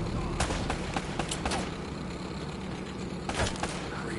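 Scattered gunshots ring out in the Uncharted video game, a few sharp cracks and short bursts spread through a dense, noisy battle mix, with speech likely mixed in.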